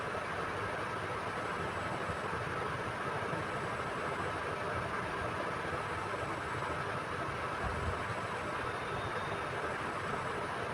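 A sewing machine stitching lace onto cloth for an Afghani salwar runs with a steady, even mechanical whir and rumble throughout, close by and uninterrupted, with no talking.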